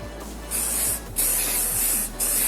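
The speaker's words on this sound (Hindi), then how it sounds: "again shine spray" Hair shine spray is released onto a loose braid in three short hissing bursts, close and fairly soft, with brief pauses between them.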